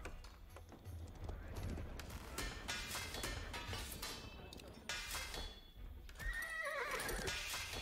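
Horses in the Age of Empires 4 video game during a Norman campaign battle, with repeated clip-clop hoof beats, clinking and mechanical battle clatter, and a clear whinny near the end, all fairly faint with someone talking over it.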